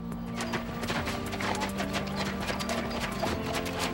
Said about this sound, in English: Horse riding, I absolutely love.